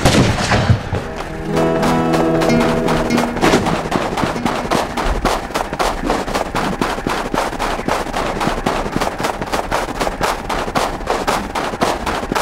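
Gunfire in the survival game Rust, with a sniper rifle involved, as a loud, fast, steady stream of sharp shots running nearly the whole time. A brief tonal sound rises near the start.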